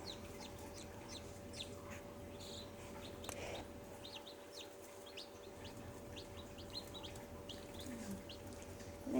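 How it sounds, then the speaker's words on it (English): Newly hatched chicks peep faintly in scattered high chirps, with a few soft clucks, over a low steady hum in a quiet indoor space. "They seem to be pretty aggressive little chicks, so healthy and seem to be running around really well."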